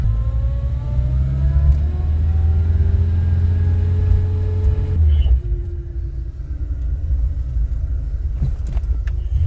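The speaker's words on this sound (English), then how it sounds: "She's got a pretty good exhaust on it." Toyota KE70 car engine with an aftermarket exhaust, a loud steady rumbling idle and rev that rises slowly, then drops away into a quieter idle near the end.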